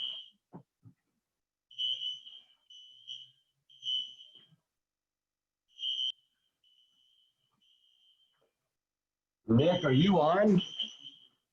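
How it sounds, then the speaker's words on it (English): An office fire alarm gives short shrill high beeps in bursts, then a fainter sustained tone, before someone speaks close by over it. "Our fire alarms are going off in our office here."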